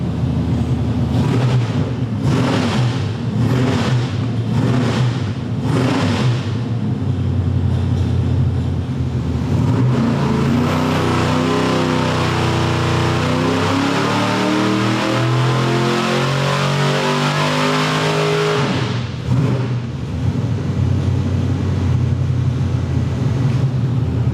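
A Ford's engine revs hard on a dyno, loud and close, with a series of sharp throttle blips first, then a long sustained high-rpm pull that winds up and cuts off, followed by more bursts.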